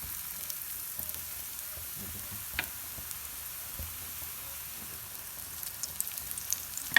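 A low, steady sizzle comes from an egg paratha mixture frying in a pan as it is spread out, faint and even, with a few small clicks and no speech.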